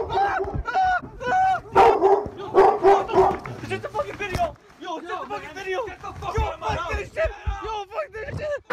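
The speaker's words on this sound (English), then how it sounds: "There's a dog in here!" A dog close by gives a quick series of yips, barks and whimpers, loud and excited, mixed with agitated human voices talking over it.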